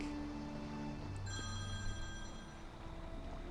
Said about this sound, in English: And that is my telephone, so I will be right back.